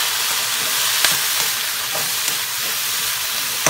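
Onions fry with oregano in a pan, giving a steady close sizzle with faint scrapes of stirring and a few soft clicks, no voices.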